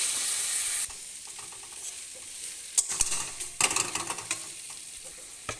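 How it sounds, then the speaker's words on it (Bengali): Kochur loti with fish eggs being stirred and fried in a pan, a bright sizzle at the start that drops away, then scraping and clinking of a spatula against the pan in irregular bursts, close and alone. "এবার একটু ভালো করে নেড়ে চেড়ে নেব, কষে নেব একটু ভালো করে।"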